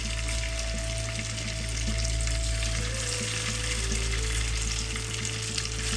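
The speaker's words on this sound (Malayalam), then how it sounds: "നമ്മളിതൊന്ന് ഷാലോ ഫ്രൈ ചെയ്യാം." Marinated chicken cubes shallow frying in coconut oil, with butter and olive oil also named, for creamy chicken mushroom macaroni: a dense, continuous close sizzle that holds steady throughout, with no voices.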